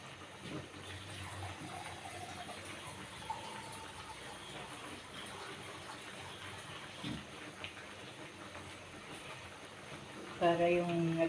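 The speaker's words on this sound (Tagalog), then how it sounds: "Dagdagan pa po natin ng tubig" Water is poured into a pan of sautéed onions, some of them burnt, while mung bean stew with meat and moringa is being cooked. A steady low wash of pouring and sizzling runs throughout, with a louder splash near the end and faint voices in the background.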